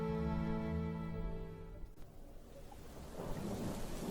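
Thunderstorm with rain as a story sound effect: a deep rolling thunder rumble fades into steady hissing rainfall, loud and close, with no voices.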